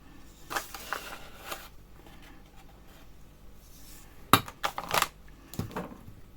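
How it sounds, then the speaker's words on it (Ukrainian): Corn starch and sugar are stirred together in a bowl. A spoon gives soft scraping strokes and a few sharp, close clinks against the dish, with quiet gaps between. "І все це перемішую, щоб крахмаль перемішався з цукром"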